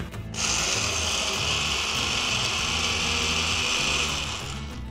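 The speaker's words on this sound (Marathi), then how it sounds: "हे सुके जिन्नस आधी आपण छान ब्लेंड करून घेऊया" Electric kitchen mixer grinding dry chutney ingredients with grated fresh coconut, green chilli pieces and grated ginger; a loud, steady whirring roar that starts abruptly after a brief pause and runs continuously to the end, with no talking.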